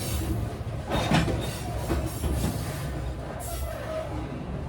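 A train rolls along with a steady, continuous low rumble and faint rattling, with no distinct clacks standing out.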